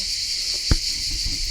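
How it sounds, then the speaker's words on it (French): Crickets chirping outdoors in the Cévennes, a steady high-pitched trill running through the whole moment, with a soft thump near the middle. "à votre avis, il y a combien de grillons qui chantent?"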